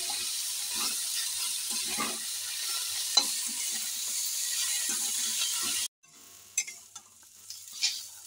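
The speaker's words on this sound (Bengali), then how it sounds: "অ্যাড করে আমি বেশিক্ষণ নয়, 1 থেকে 2 মিনিট গ্যাসের ভলিউম বাড়িয়ে নাড়াচাড়া করে নেব" Coriander leaf filling stirred in a pan over a high gas flame, a continuous sizzle with rhythmic scraping strokes, then a sudden drop to quieter kitchen sounds with a few clatters near the end.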